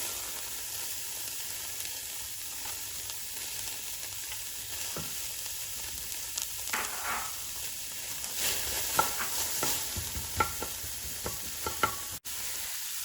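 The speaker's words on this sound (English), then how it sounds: "So we've preheated a pot on maximum, and she's going to start off by adding the onions." Onions fry in a pot preheated on maximum, a soft steady sizzle with intermittent scraping and clinks from stirring.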